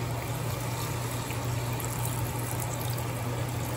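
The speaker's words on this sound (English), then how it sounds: "Now we're just going to cover this with water." Water poured over pork in a pot to braise Filipino adobo, a steady, continuous rushing pour with a low hum underneath, close and fairly loud, with no talking.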